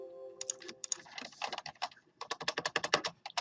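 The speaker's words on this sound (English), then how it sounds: "if I go somewhere and I do Notepad, and I type some text in" Quick, close keystrokes on a computer keyboard as text is typed into Notepad, clicking in two rapid bursts separated by a short pause, with no talk over them.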